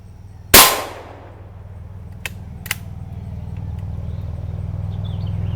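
A single sharp shot from a Marlin XT22M bolt-action .22 rifle, loud and close, followed by a decaying ring and two faint metallic clicks over a low background hum.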